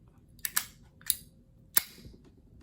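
Sharp metallic clicks from the flip cover of a collectible Zippo-style lighter made in January 1997, three crisp snaps spaced about half a second apart, close and clear over a quiet background.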